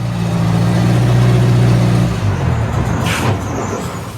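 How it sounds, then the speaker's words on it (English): A skid steer loader working on a workshop building site, its diesel engine droning loud and close with a steady low hum, then dropping in pitch and turning rougher as the machine moves. A short burst of air brake or hydraulic hiss comes near the end. "The skid steer."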